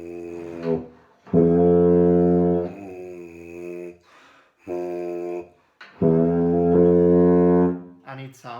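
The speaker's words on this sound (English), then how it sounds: "and it sounds a tuba." Tuba notes played in two long sustained blasts, deep and brassy with a foghorn-like tone, separated by short breathy pauses and shorter notes, close and loud in a room.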